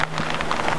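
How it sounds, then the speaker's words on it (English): Steady rain on a mountain lookout during New Mexico elk season, a continuous close hiss of falling drops with no voices. "that rain's making it hard to see anything."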